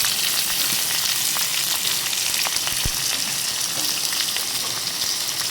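Sliced onion crackles and fries loudly in hot oil with ginger and garlic for an egg curry, a dense, steady sizzle that runs throughout with a few brief spatters and stirring clicks.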